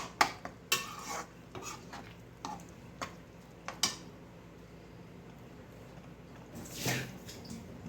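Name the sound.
potato and chickpeas being sautéed and stirred in a pan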